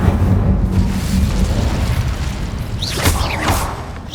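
An Incendio fire spell cast in Hogwarts Legacy gives a loud, rumbling whoosh of flame with a low roar and a couple of brief bright crackling flares near the end.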